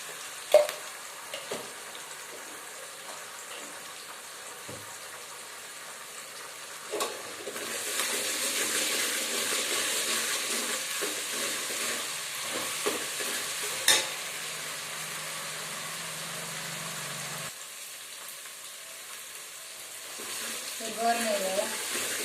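Ginger garlic paste fries and is stirred in a pan, giving a steady hiss with occasional scraping clatters; the sizzle swells louder in the middle, and talk sits faintly underneath.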